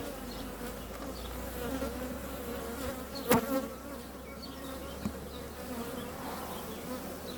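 Bees buzz steadily around a hive, a dense droning hum with a few sharp knocks and clicks partway through.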